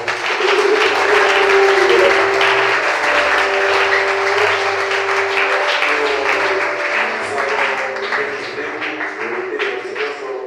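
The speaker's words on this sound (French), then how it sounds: "Est-ce que quelqu'un peut acclamer pour la parole?" A crowd applauds with steady, dense clapping for about ten seconds, loud and close, slowly thinning toward the end, with a faint sustained tone beneath.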